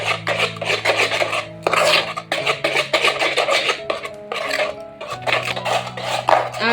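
Semolina batter mixed with Eno and water in a bowl, heard as loud, rapid scraping and rubbing strokes of a spoon against the bowl in close, rhythmic bursts with short pauses.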